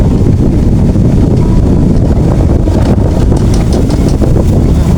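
Strong, steady wind buffets the microphone outdoors on a concrete road beside sugarcane fields, a continuous loud rushing roar with no other distinct sounds.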